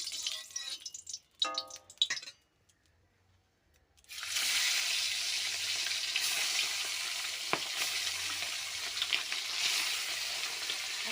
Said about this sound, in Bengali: মাছটাকে প্রথমে ভেজে নেবো আমি